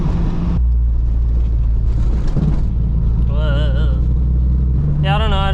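A supercharged VTEC car engine with a new header rumbles with a deep, steady low drone close by, while a voice briefly breaks in with a few warbling sounds over it.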